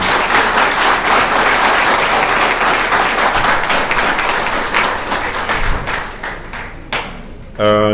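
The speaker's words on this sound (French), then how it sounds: "Je vous prie, s'il vous plaît, de vous lever et applaudir très très fort le Père Jomanas Eustache." A large audience at an anniversary conference stands and applauds loudly, a dense and sustained wash of clapping that holds for several seconds before thinning out near the end.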